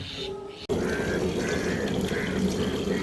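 Tap water runs steadily into a sink for washing, a continuous splashing flow that starts abruptly after a brief lull, close and fairly loud throughout.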